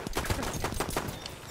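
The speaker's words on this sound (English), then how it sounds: "An enemy machine gun." An enemy machine gun firing in a video game, a fast steady rattle of repeated close shots in one short burst.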